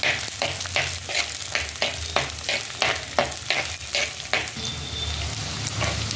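Garlic and ginger fry in a pan for a crab curry, a close, busy sizzle broken by quick rhythmic scraping strokes of a spoon stirring around the pan.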